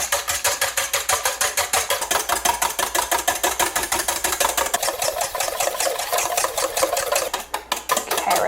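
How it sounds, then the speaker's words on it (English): A whisk beats strawberry mixture in a bowl by hand in a steady, fast round motion, giving a close, loud, even rhythmic scraping and clatter that runs the whole time with no talk. "I'm going to whisk like this in a round kind of motion."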